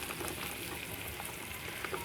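Beef hitting a hot pot for beef pilau with bone marrow, giving a soft, even sizzle with faint crackles throughout and no voices.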